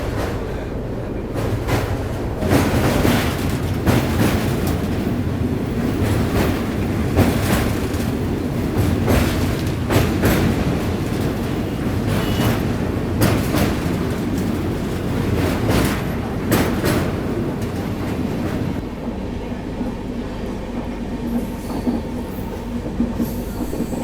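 The Falaknuma SF Express rumbles across the Rupnarayan river bridge, a loud continuous roar with rhythmic clanking of wheels over girders and joints, easing slightly toward the end.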